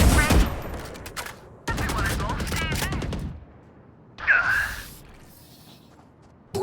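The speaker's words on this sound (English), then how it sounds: "Swarm grenade out." A swarm grenade goes off in a casual online shooter match, a burst of rapid crackling blasts and gunfire-like pops in the opening seconds and again near the middle, with a whooshing sweep after, while a player talks over it.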